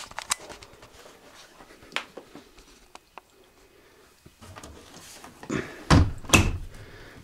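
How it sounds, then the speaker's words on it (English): A Hotpoint Aqualtis washing machine's detergent drawer slides shut with a couple of firm plastic thuds near the end, after quieter handling clicks and rustles, with no talking. "Open this, you pour it into the drawer of the actual washing machine, close the drawer"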